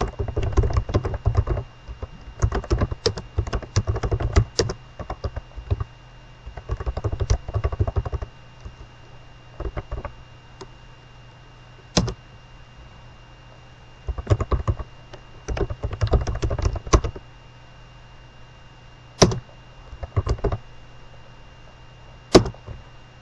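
Someone types on a computer keyboard in a quiet room. Clustered runs of crisp key taps are broken by pauses and a few single sharp strokes, sitting over a steady low hum.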